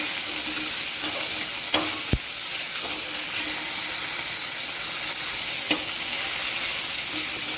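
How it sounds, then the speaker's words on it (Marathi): Coriander leaves sautéing in an oil tempering with tomatoes for a spicy matki bhaji, a steady close sizzle broken by a few sharp spatula scrapes and clicks. "कोथंबीर पण छान अशी परतून घ्यायची फोडणीमध्ये"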